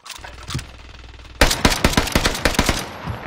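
Rapid automatic gunfire from a Type 11 light machine gun in Warzone erupts after a quieter opening, a dense run of sharp close shots lasting to the end with no talk.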